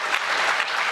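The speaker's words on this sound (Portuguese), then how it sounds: "aqui pedir uma salva de palmas a todos" A brief burst of steady audience applause fills a contract signing ceremony for electricity transmission concessions, dense clapping heard close and alone.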